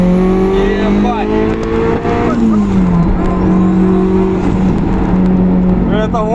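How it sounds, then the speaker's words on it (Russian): Turbocharged Honda CR-V with a straight-through exhaust accelerating hard, its engine roaring loud and close with a rising, shifting drone and a faint high turbo whistle throughout. "вот нажимаешь газ, слышишь турбину и паш, полетела"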